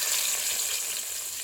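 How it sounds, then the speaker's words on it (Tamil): Onions and tomatoes frying in a pan while a ladle stirs them, a loud, bright, continuous sizzle with no voices over the short stretch. "கரண்டியில கிண்டிக்கலாம்."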